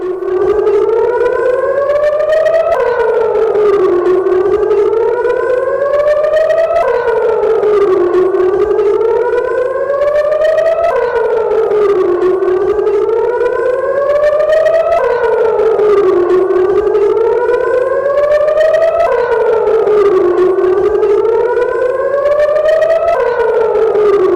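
Air raid siren from news footage of Israel during attacks on Gaza, a loud wailing civil defense tone rising and falling in long repeated cycles of about four seconds, continuous and alone throughout.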